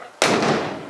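One sudden loud bang, the door of a 1963 Thunderbird slammed shut nearby, with a short ringing decay afterward.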